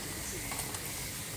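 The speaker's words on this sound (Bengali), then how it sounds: "আমার সাপচিলা কবুতরের বাচ্চা" Pigeons in a loft coo softly, a short low murmuring call over a steady background hum.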